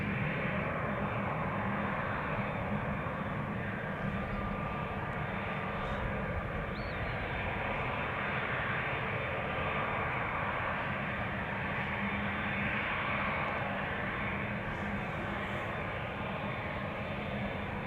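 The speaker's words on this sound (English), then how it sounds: "you can hear the engines. Typical whale sounds, as they're called, whenever these engines pull up or down." Jet airliner engines spooling at Amsterdam Schiphol Airport roar in a steady, broad drone from inside the aircraft, with a faint, thin whine rising briefly above the rush.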